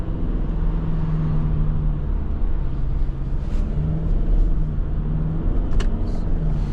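A 2022 Toyota Sienna hybrid minivan drives with its gas engine running, a steady low rumble of engine and road noise heard from inside the cabin, continuous and fairly loud.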